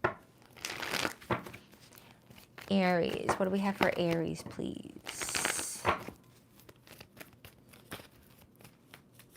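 Tarot cards riffle and crinkle as a deck is shuffled up close, while someone talks over and around the shuffling.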